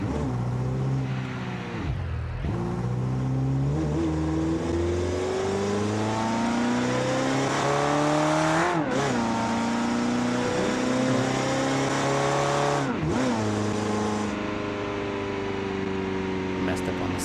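A car engine in the BeamNG driving game revs with a modern sports-car tone, rising and falling in pitch through several sweeps, loud and continuous, with someone talking over it.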